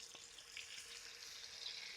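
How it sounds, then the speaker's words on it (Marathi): Butter with a little oil sizzles and fries steadily in a kadhai over a village wood-fired chulha while dal makhani is being made, a continuous crackling hiss close to the pan with no talking. "आपलं बटर खाली लागू नये म्हणून थोडंसं तेल पण टाकायचं"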